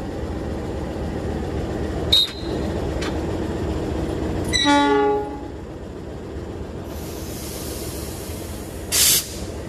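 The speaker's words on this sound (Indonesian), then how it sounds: "Proses pemasangan lokomotif dinas kereta api Gajayana pada sore hari ini." A service locomotive is coupled to the Gajayana passenger train one afternoon, with its coupler out of line. Metallic clanks and a ringing screech sound nearby over a steady rail-yard rumble, followed later by bursts of air hiss.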